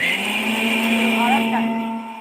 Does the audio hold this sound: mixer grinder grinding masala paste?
yes